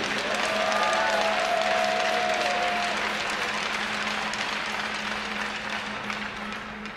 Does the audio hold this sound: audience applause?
yes